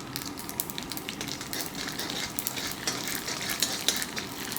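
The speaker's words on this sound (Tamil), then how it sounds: "கடுகு நல்லா பொரிஞ்சு வந்துச்சு" Mustard seeds and fennel crackle and spit in hot oil for a Madurai-style paneer thokku, giving a faint, busy sizzle with scattered small pops and a light stir close by.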